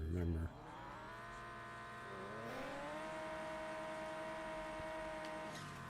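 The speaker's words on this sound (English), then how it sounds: "So all these cars basically have a very similar sound that they changed them all to." Drag cars in the racing video game No Limit 2 give a sustained synthetic engine drone that steps up in pitch as they shift and accelerate, with a short burst at the start and a steady whine after.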